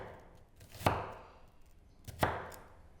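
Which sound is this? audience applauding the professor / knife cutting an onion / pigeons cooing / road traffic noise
knife cutting an onion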